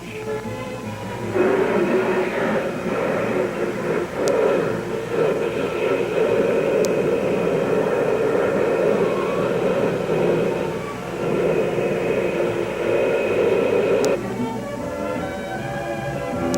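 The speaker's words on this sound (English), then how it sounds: "Through the air with a rocket strapped on his back." A rocket belt with a man strapped in flies through the air, giving a loud, sustained roaring hiss that swells in after a quieter start, holds steady for about twelve seconds, then drops back.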